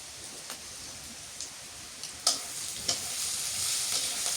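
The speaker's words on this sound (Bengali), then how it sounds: "একটুখানি মাছ ভাজি করছি" Fish fries in a pan with an even, hissing sizzle, broken by a few sharp spits and crackles, the hiss growing a little louder near the end; no one talks.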